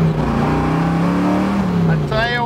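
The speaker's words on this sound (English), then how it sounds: "that 428 will set you back in the seats. It's making those tires just scream." A 1969 Ford Mustang R Code with a 428 engine accelerates hard, its engine droning and rising in pitch while the tires scream near the end, loud and close, with someone talking over it.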